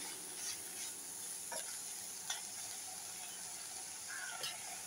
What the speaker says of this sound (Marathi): हे भेंडे मी घालून असे परतून घेते